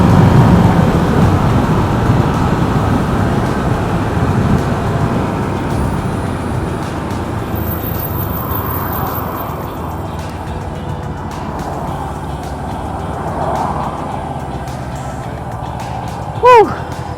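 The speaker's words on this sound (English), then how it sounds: "Pulled over to let those cars go past" Cars roll past on a road beside a pulled-over vehicle, a broad rumbling wash of tyre and engine noise that swells and fades as each passes, with a brief sharp squeak near the end.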